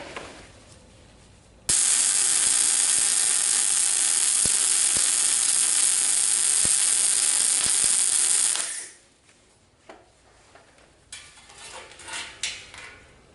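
Welding a vertical butt joint with backing on a base plate: a loud, steady crackling sizzle begins abruptly, runs for about seven seconds with occasional sharp pops, then cuts off into quieter handling noises.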